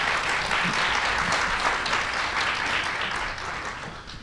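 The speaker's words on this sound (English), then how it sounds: "Let's give a big round of applause for our contestants" A theater audience at a Texas quiz show championship claps for the contestants, a dense, sustained burst of applause that fades slightly toward the end, with no speech.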